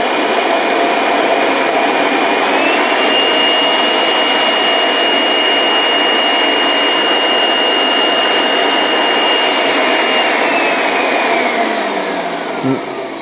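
A Parkside PAUGB A1 cordless leaf blower runs with its narrowing nozzle fitted, a loud, steady high-pitched whine and rushing air holding constant before trailing off at the end, with no talk.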